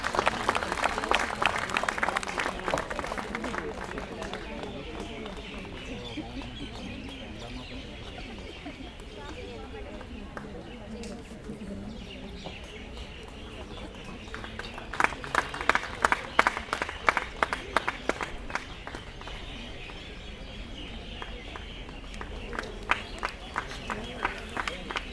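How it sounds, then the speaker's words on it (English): Audience applause at an interior design convocation ceremony, a crowd clapping in a long, uneven wash with bursts of sharp, closer claps toward the end, set in a large room with some voices mixed in. "A big round of applause,"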